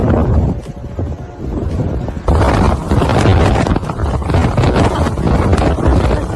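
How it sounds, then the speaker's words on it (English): Strong blizzard wind buffets the microphone in Heilongjiang during a deep freeze, a loud, continuous roar with gusting surges and rumbling low tones. "Residents are enduring windy conditions"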